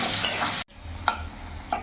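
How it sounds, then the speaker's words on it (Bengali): Potatoes with salt and turmeric fry in hot oil, a steady dense sizzle with a brief cut-out and a few stirring clinks as they brown. "আলুটাকেও লাল লাল করে ভেজে নেবো।"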